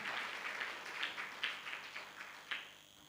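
A church congregation claps their hands in praise during a Sunday service. The claps come as a rhythmic series of soft, even beats, roughly two a second. No voices are heard.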